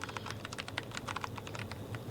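Rapid typing on a Logitech G915 TKL gaming keyboard with tactile switches: a steady stream of soft, close, fairly quiet keystroke clicks at an even pace, with no talking.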